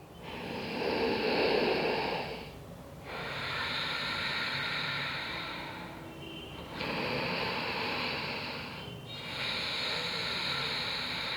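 Slow, soft hissing breaths drawn through the nose during a thyroid yoga exercise, four long, even strokes close to the microphone with brief pauses between them.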